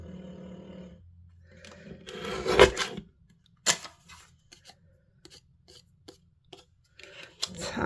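Scissors cut through card stock for a handmade men's card: a few close, crisp snips and paper rustles, separated by quiet gaps.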